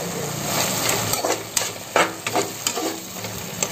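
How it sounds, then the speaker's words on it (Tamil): Masala with turmeric and chilli powder sautés in a pan for mushroom biryani, a close steady sizzle broken by the irregular scrape and clack of a spoon stirring, with no talk. "நல்லா பச்சை வாசனை போகிற வரைக்கும் நான் இதை வதக்கிக்கலாம்"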